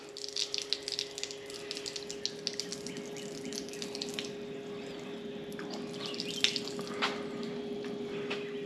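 Water streams steadily from a portable water-heater shower, a continuous close hiss with scattered splashes and drips that rise and fall in irregular bursts.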